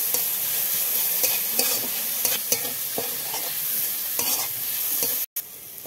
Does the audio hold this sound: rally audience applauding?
no